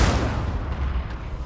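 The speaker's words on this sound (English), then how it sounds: "Firing concussive shots!" Concussive shots fire in a Mass Effect 2 battle, a loud close boom with rumbling low end that decays into a rough, uneven rumble over a second and a half, with no talk.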